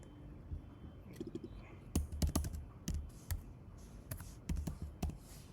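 Bursts of quick keystrokes on a computer keyboard, close and fairly quiet, coming in short clusters of clicks with pauses between them.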